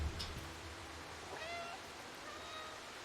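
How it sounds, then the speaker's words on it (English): In the video game Stray, a cat gives two soft, short meows, fairly faint, over a quiet background hiss like rushing water, with no talking. "with another little encouraging meow, he made his way forward and leapt up onto the hard rock"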